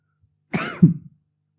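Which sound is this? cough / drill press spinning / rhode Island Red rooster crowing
cough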